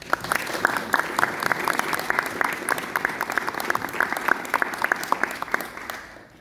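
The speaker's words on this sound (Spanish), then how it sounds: "Y un aplauso, por favor." Steady applause from a crowd at a literary event, dense clapping that holds for several seconds before tapering off at the end.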